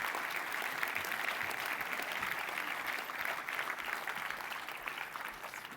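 Audience applause fills the hall at a doctoral degree graduation ceremony, dense and sustained clapping from a large crowd throughout, steady and fairly loud with no pause.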